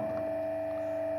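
Electric motor running on a reversing contactor circuit in an electrical engineering demonstration, giving a steady, even hum with a strong constant tone and faint mechanical whir, unbroken throughout.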